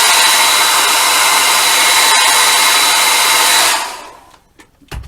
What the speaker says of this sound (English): use the old hair dryer.